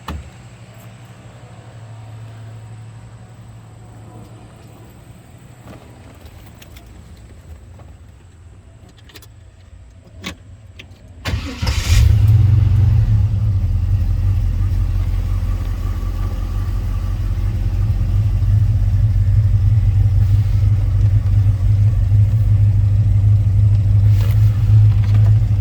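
A 1935 Pontiac three-window coupe with an LS1 V8 and automatic transmission sits quiet, then the engine cranks, catches and settles into a loud, deep rumble that rises with revving for the remainder.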